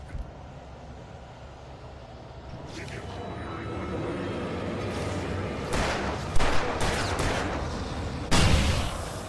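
Gunfire and exploding gas canisters in the Alan Wake Remastered video game: a rising din leads into several loud, sharp bursts and blasts clustered near the end.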